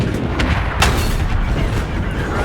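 A tank cannon fires in a video game at an AT-15 tank destroyer, amid loud, continuous rumbling battle noise with a few sharper booms standing out.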